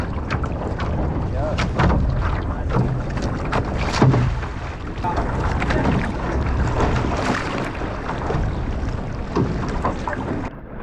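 Paddling on open water during a paddling event, with strong wind buffeting the microphone, water splashing and the swish of strokes all through, under occasional talk.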